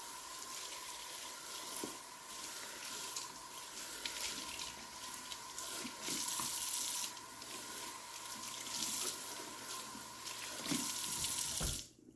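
Kitchen sink tap running steadily while a vegetable cutting board is washed, a close continuous gush of water with small knocks and shifts of the board, ending abruptly as the flow stops.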